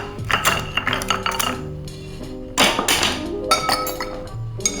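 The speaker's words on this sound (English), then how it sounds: "Next, we're gonna add some ice." Large ice cubes set into a cocktail glass with tongs while two Old Fashioned drinks are made, giving clustered clinks and thunks in two bursts, close and fairly loud with no talk.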